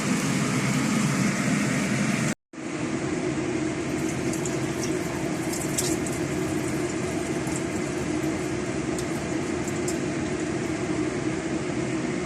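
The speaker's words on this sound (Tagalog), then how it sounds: "So, tatanggalan natin siya ng tubig." Water drains off cooked pumpkin in a steady, rushing pour that cuts out briefly near the start and then runs on evenly and fairly loud, with no talking.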